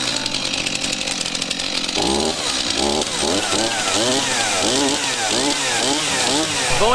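Chainsaw engine on a farm, revving loudly and continuously with rising and falling pitch sweeps, the pull-start cutting in after a short initial stretch and the motor wavering up and down close by before tree felling.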